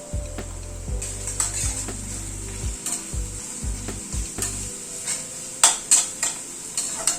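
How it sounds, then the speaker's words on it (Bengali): Crushed garlic and onion frying in a pan, a steady close sizzle with stirring scrapes and a few clinks of a utensil against the pan, no talk. "রসুনটা দিয়ে আবার একটু পেঁয়াজের সাথে ভেজে নেব।"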